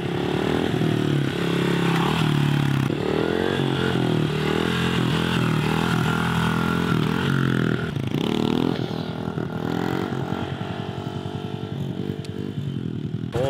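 Two small dirt bikes, a 2023 Yamaha TT-R 110 and a Honda CRF 110 with airbox and screen removed, ride wheelies along a driveway, engines revving loud and near with rising and falling pitch throughout, no talk.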